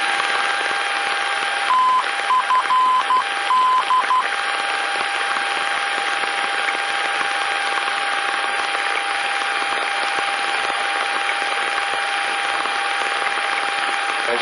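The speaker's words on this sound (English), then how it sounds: "The main ID is a unique Morse code identifier that you'll hear in this next sequence" A VOR navigation beacon's Morse identifier plays over an aviation radio as a few short, clipped tone bursts near the start, set against a steady hiss of static and a constant whine.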